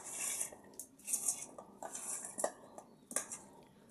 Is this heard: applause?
no